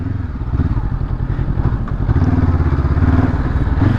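A 2022 Honda CB500F, a parallel-twin motorcycle, is ridden with its engine giving a steady, close, throbbing drone. The engine rises slightly in intensity toward the end, and nobody talks over it.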